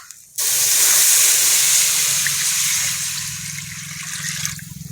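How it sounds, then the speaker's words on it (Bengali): Water gushes into a pot of fried khichdi ingredients, starting abruptly as a loud, close rushing pour that gradually softens and thins toward the end. "জল দিয়ে দেবো।"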